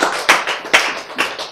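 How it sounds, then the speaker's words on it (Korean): Brief burst of applause from a lecture audience in a Korean science talk on gene repair: a few sharp, loud clap clusters in quick succession, with no speech over them. "박수."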